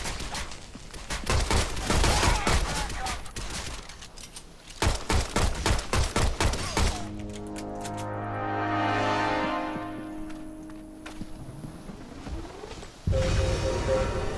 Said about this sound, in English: You can also shoot the exploding canisters and headshot the rest.